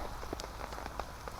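Light rain falls at a wild camping site in a soft, steady patter with scattered individual drops tapping nearby, faint and continuous.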